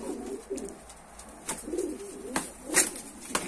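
Rock pigeons pairing in a loft coo in low, throaty bursts, several calls spaced irregularly and close by, with occasional sharp rustles or wing flicks between them.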